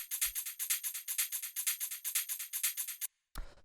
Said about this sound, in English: The next sound that we have here is the shaker